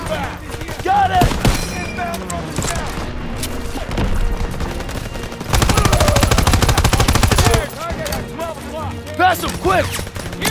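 Rapid machine-gun bursts and rifle shots in the Call of Duty WWII game, a fortress mission, loud and close, with a long sustained burst in the middle, thuds and shouted commands around it.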